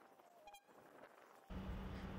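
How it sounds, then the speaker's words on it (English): A sudden loud, steady blast of an air horn on a King Song S18 electric unicycle kicks in partway through and holds to the end, following a brief faint tone and rustling. "it's this air horn right here"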